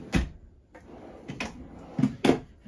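Drawers in a 2023 Nash 24B camper trailer sliding open and shut, about five short thumps and knocks spaced unevenly, close and fairly quiet.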